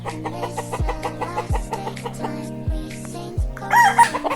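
A native chicken on a backyard farm clucks and crows in a short series of close, clear calls, with several repeated notes and other fowl sounds around them and no talk.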